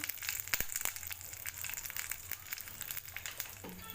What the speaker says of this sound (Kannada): ನೆಕ್ಸ್ಟ್ ಒಣಮೆಣಸಿನ್ಕಾಯಿ ಹಾಕ್ಕೊಂಡು ಹಾಕ್ಕೊಂಡು ಬಾಡಿಸ್ಕೋಬೇಕು